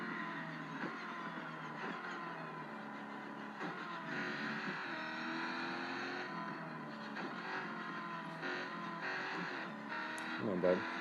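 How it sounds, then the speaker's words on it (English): A race car engine in a video game roars steadily throughout, its pitch rising and falling as it revs, with a continuous loud drone and brief surges. "Much race car sounds happening right now."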